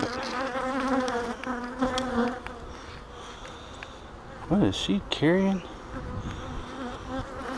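Honeybees buzz steadily at close range at a mating nuc hive, a dense droning hum with a person speaking briefly over it partway through.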